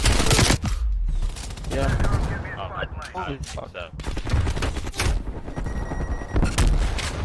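Video game gunfire in Warzone, with loud, rapid, repeated shots and booming blasts in dense bursts, and excited voices talking over the shooting.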